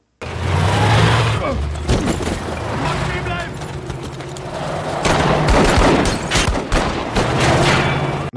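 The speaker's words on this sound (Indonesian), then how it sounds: "Sang kapten ditembak mati dan Thomas melarikan diri dengan mobilnya." Bursts of gunfire ring out through a war film scene, dense volleys and scattered shots mixed with vehicle noise, loud and close, with brief voices in between.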